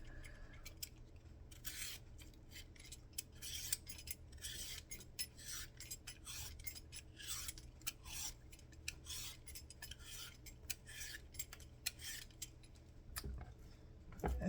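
Peeler or knife scraping along a butternut squash in a home kitchen, a steady series of quick, rasping strokes with short pauses, close and fairly faint, no talking.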